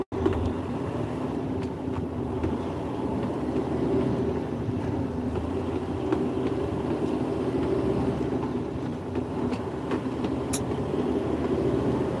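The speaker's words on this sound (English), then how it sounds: "going to be stuck here because of the trains going across" Trains rumble across a road crossing in a steady, loud, continuous roar heard from a truck waiting at the crossing, with occasional sharp clanks and squeals over the drone.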